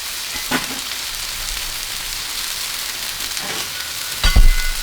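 Thinly shaved sirloin or ribeye sizzling on a Blackstone griddle, a steady close hiss with a few scrapes and clanks of a spatula on the metal top, ending in a louder clatter.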